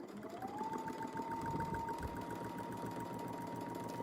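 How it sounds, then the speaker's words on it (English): Sewing machine stitching around a fabric circle: a steady, close mechanical whir with a rapid regular needle rhythm that rises at the start and then holds even throughout. "we'll just sew around our circle"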